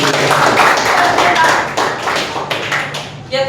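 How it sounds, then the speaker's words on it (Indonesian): A classroom of students claps for a group after their presentation, a burst of brisk, fairly loud applause with voices mixed in, tapering near the end. "Kita tepuk tangan untuk kelompoknya Cindy."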